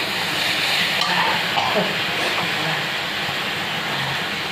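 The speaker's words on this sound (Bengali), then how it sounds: "মশলা ভাজা হচ্ছে।" Spices frying in a pan for a fried momo dish, a steady dense hiss and sizzle throughout with faint stirring, no talk.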